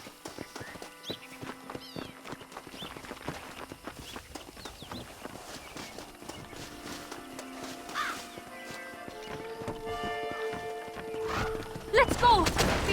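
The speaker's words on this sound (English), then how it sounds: "They are good horses." Horses pulling a stagecoach in Red Dead Redemption, with steady clip-clop hooves and rolling wheels continuing throughout, plus an occasional snort, under faint background sound.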